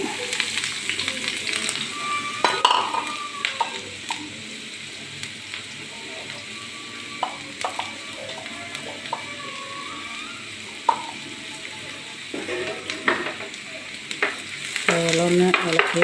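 Small onions frying in coconut oil in a pan, stirred now and then, with a constant close crackling sizzle and scattered scraping strokes that grow busier toward the end.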